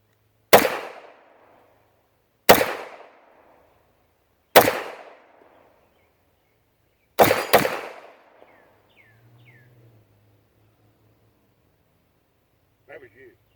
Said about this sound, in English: I ain't never shot this gun before.